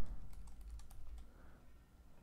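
Typing on a computer keyboard, close up, with a quick run of light key clicks that fades into quiet room tone, no voices.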